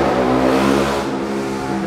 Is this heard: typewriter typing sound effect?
no